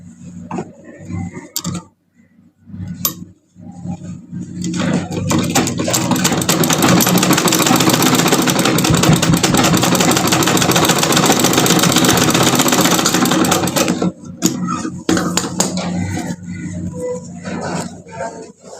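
A sewing machine stitches fabric during a beginner cutting-and-stitching lesson: a continuous, dense mechanical whir with rapid ticking runs loud and close for about ten seconds, bracketed by short bursts and handling noises before and after.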